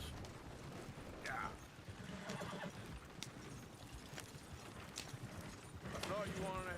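A horse neighing in the Red Dead Redemption 2 video game, with whinnies and hoof clip-clops at moderate distance, mixed with faint background activity and occasional speech.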